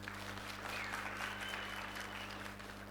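Audience clapping at a student gathering, a steady wash of applause lasting a few seconds at moderate distance over a low background hum.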